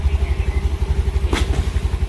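A small Activa scooter engine putters close by in a steady, rhythmic throb, with a brief rattle partway through.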